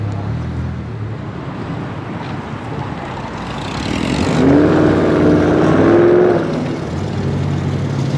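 A Mazda Miata revs and accelerates past at an SCCA autocross, its engine note swelling loud mid-pass then fading over steady background noise.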